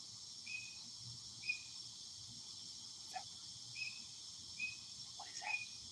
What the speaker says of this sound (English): That's a weird bird. Listen to this bird.